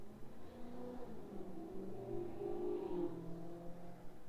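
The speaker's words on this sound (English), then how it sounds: "A loud car just drove by." A loud car drives by outside, its engine note rising and swelling in the middle before fading, heard alone at moderate distance for about four seconds.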